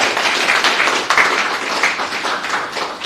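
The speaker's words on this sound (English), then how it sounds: "A round of applause." Audience applause closing a talk at a startup business-development event, a steady dense round of clapping from a crowd in a room, sustained and fairly loud throughout.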